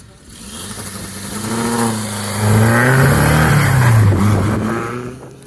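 A supercharged Austin 7 special's engine idles roughly, then revs hard and swells to a loud, close peak before easing back down.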